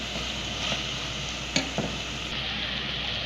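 Chopped capsicum, onion and tomato sizzle steadily in a hot pan, a continuous close frying hiss broken by a couple of brief clinks from stirring.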